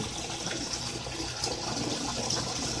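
Water flowing steadily up into a siphon in a plant system, a continuous broadband rushing and gurgling at close range with no talk.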